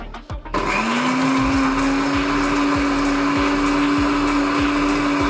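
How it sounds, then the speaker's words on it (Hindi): An electric blender starts up and whirs steadily and loudly, mixing an Oreo milkshake with milk, cream and sugar, a constant motor drone after a brief clatter at the start. "अब हम इसको ब्लेंड करेंगे।"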